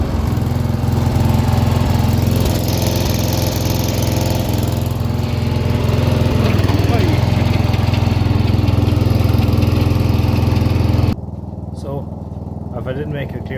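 A Murray 100/78 lawnmower engine, slightly flooded, cranks and then runs steadily with a loud, continuous droning rumble for about eleven seconds before cutting out, leaving faint background noise.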